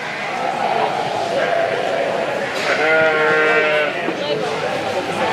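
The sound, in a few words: sheep bleating at livestock show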